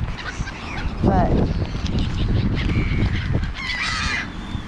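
Birds in a garden, with goose-like honking and fowl calls coming in loud bursts close by over a busy background rumble of traffic.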